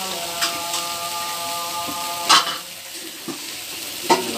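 Spices frying in a pan on a clay stove in a village kitchen, with a steady sizzle and a few sharp stirring scrapes, one of them loud, and no talking.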